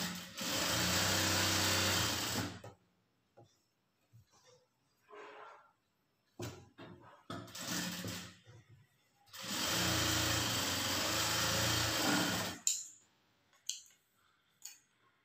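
A sewing machine top-stitches a blouse in two long, steady whirring runs of a few seconds each, close by, with quieter handling noises of fabric and small clicks in the pauses between.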